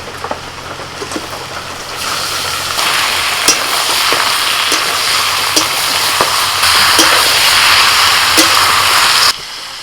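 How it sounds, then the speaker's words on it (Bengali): Chicken pieces sizzle and fry loudly in a pan with ginger, garlic and onion for schezwan-style paper chicken, a steady close crackle with occasional stirring scrapes, cutting off near the end. "আদা রসুন পেঁয়াজ সব ভাজা ভাজা করে নিয়েছি এবার আমি চিকেনটা দিয়ে দিচ্ছি"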